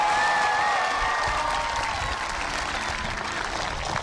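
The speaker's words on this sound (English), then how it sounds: "Would you please again give a round of applause and celebration for all of these young men and women?" A high school graduation crowd gives a full round of applause for the graduating class, dense steady clapping with a few faint whistles and cheers mixed in.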